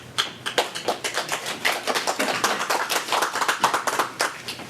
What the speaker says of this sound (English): Board member got applause.